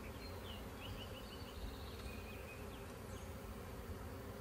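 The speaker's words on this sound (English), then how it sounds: "probably a couple hundred bees in the air still flying around" A swarm of honey bees fills the air, a couple hundred still flying about, producing a steady, dense buzzing drone that holds evenly throughout with no voices.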